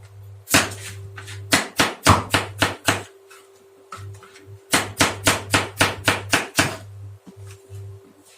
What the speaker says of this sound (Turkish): Şöyle doğrayalım